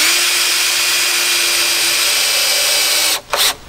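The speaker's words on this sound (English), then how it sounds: "We'll get that one screw in started." Power drill driving a screw into wood for a treehouse build, a loud steady whine for about three seconds that cuts off briefly, then gives a short final burst, close up.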